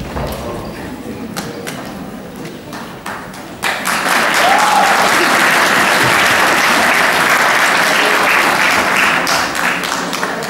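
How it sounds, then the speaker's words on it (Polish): Scattered claps and a few thumps at an award ceremony of a Ukrainian children's ensemble festival, then at about four seconds full audience applause breaks out and continues loudly and evenly to the end. "Wielkie brawa."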